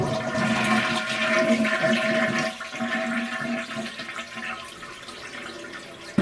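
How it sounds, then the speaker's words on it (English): A household toilet flushes to empty its tank while the water supply is shut off, a steady loud rush of draining water lasting throughout with gurgling toward the end. "Drain the tank by flushing the toilet."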